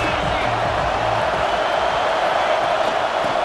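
A football stadium crowd roars steadily during a big league Ohio State game, a dense continuous wash of cheering and noise without pauses, loud and distant-sounding, with commentary faintly beneath.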